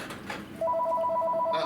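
A telephone rings steadily with a two-tone electronic ring for an incoming call, close and clear over room noise, with no talking.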